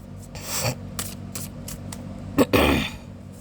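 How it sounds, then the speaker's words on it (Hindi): Tarot cards being shuffled by hand: a handful of soft, close papery rustles and riffles in short bursts, the last one fuller and louder, with no talking. "Last shuffle."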